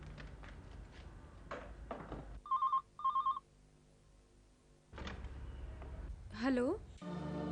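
A telephone rings in two short electronic bursts in a quiet room, with talk before and after the rings.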